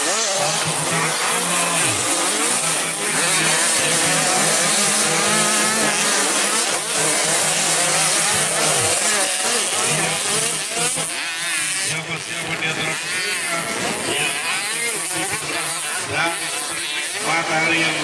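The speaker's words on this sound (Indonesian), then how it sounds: "65 cc race kedua yang kali ini melintas di hadapan Anda semuanya pada perjalanan hari ini" Several 65cc motocross bikes racing at the Wanakaya circuit in Cirebon, engines buzzing and revving loudly and continuously as they pass close by, high-pitched two-stroke whine rising and falling throughout.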